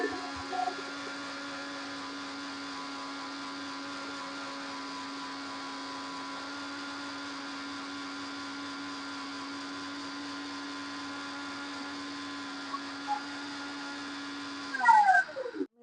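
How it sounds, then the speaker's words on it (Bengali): A blender mixing oil into homemade mayonnaise runs with a steady, high motor whine for a long stretch, then winds down with a falling pitch and a few clunks at the end. "ব্লেন্ডার"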